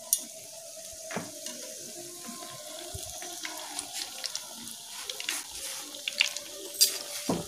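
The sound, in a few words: breaded bread sandwich frying in hot oil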